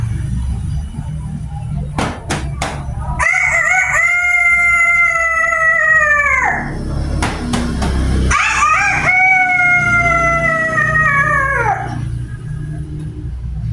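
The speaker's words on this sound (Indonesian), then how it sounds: "Suatu pagi, ketika ayam jantan mulai berkokok" A rooster crows twice at dawn, each long, loud call rising and holding before trailing off, with brief sharp knocks and a low background hum between the crows.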